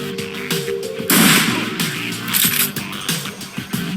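Video game gunfire in Shadowrun, several loud, close shots and sharp blasts in quick, uneven succession with metallic clinks and a brief rumbling burst in the middle.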